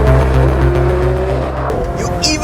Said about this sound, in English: You even get the pop on upshift, which is incredible!